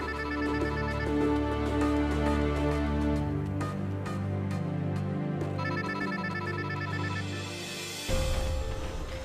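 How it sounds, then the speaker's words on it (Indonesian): A telephone rings over a steady musical soundtrack in an Indonesian TV drama, its repeating ringtone pattern continuing for several seconds before cutting off near the end. "itu ada telepon tuh, Mas. Mas Fahmi."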